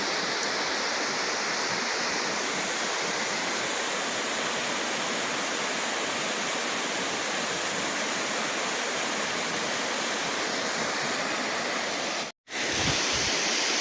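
The Alkudar waterfall in Simlipal, Mayurbhanj, Odisha, pours down from the top in a loud, steady, broadband roar of rushing water that continues unbroken until a brief dropout near the end.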